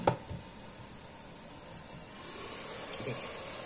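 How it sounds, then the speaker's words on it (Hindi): Minced meat qeema fries under a lid in a pan, making a faint, steady hiss that swells slightly toward the end, with a soft knock at the start. "अब इसको अच्छे तरीके से भूनूंगी मैं"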